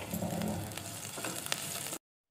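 Cumin seeds frying in hot oil for a samosa chaat, a soft continuous sizzle with faint stirring, quiet and close, cutting off abruptly near the end.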